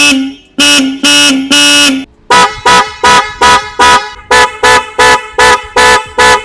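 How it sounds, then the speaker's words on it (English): Loud Bosch aftermarket car horns (Europa, Strider and Evolution models) on a Proton Inspira, blaring in turn: three long sustained honks, then a quick series of short rhythmic beeps from a different-sounding horn. "Bosch has 3 different types sold online. The Europa, the Strider, the Evolution, and this is how they sound like"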